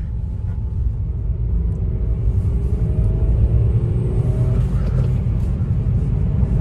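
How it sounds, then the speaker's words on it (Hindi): Heard from inside a 2016 Honda Jazz with a 1.5-litre i-VTEC petrol engine and high mileage, a low engine rumble rises as it revs, then drops back at a gear change, steady and moderately loud. "लगभग 4000 आरपीएम पे मैंने इसका गियर चेंज किया है"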